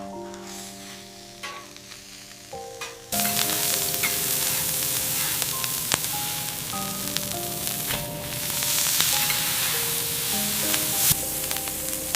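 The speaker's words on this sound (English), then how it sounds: "The marbling melts gradually, basting the steak in its own fat" Japanese Wagyu steak sizzles steadily in its own melting fat, a close, dense crackle and hiss that grows louder and busier after a few seconds, with no voices.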